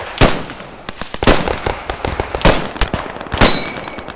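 Gunfire in the WWII shooter Post Scriptum during an Allied charge at Heelsum: sharp, loud rifle cracks at irregular intervals, with a few heavy reports and scattered smaller shots between them, no talking.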